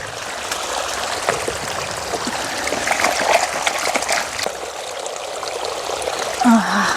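Tap water runs steadily for washing in a home kitchen, a continuous trickling and splashing stream heard close up, with a little faint background noise and no talk.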